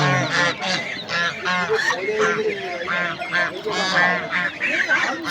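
Geese for sale at a village livestock market in Bangladesh honk repeatedly in loud, close, rhythmic bursts, with people talking in the background.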